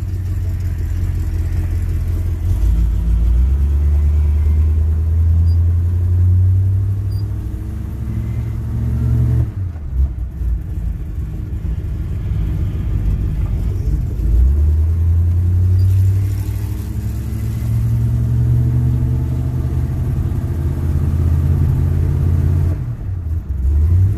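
1967 Chevy C10 pickup engine running while driving, a loud steady rumble that rises in pitch as it accelerates, drops at gear shifts and climbs again, heard close and continuous.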